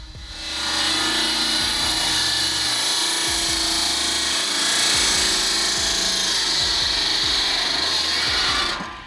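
A hydraulic firewood splitter cuts and splits logs with a loud, sustained grinding roar, steady for several seconds before stopping abruptly, close and without voices.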